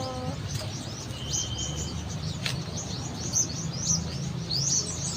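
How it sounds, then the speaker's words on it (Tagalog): Many small birds chirp and tweet in quick, overlapping bursts in trees at Silliman University Medical Center, Dumaguete City, at a moderate distance, a busy chorus over a low steady background hum. "Ang daming ibon po dito."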